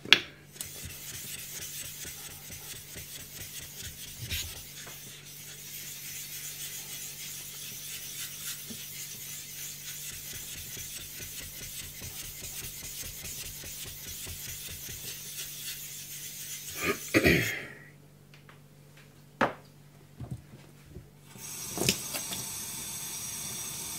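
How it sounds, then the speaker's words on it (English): Cleaning stone rubbed back and forth across a Naniwa Gouken Kuroto #1000 whetstone, a quiet continuous rasping scrub, close up, broken by a few louder knocks and handling sounds near the end, with no talk. "I'm just going to get my cleaning stone out."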